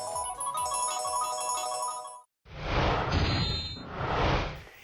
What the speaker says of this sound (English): the notification sounds could be a bit too loud if you don't set the volume properly